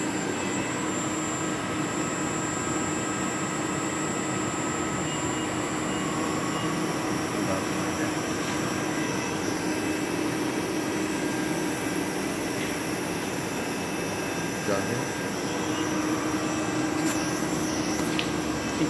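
A TRAK DPM-5 CNC vertical mill runs steadily at 1600 RPM, giving a continuous, fairly loud mechanical hum and whine with a few faint clicks, and no voices.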